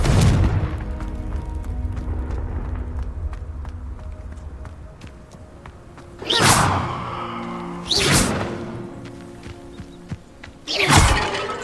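A Confringo fire spell in Hogwarts Legacy hits a vase, making three loud blasts with a whooshing burst and crash, each followed by a short decay. Between them, quieter footsteps and ambient game sound continue.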